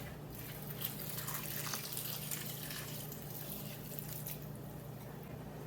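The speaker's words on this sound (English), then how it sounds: "Then we're going to add 2 cups of water." Two cups of water pour in a steady, splashy stream into a container, rising and fading over several seconds with no talking.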